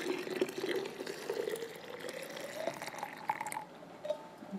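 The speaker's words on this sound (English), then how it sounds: "So we'll add some boiled water to that." Boiled water poured from a kettle onto cota herbs to brew tea, a thin trickling stream with a rising pitch as the vessel fills, close and quiet.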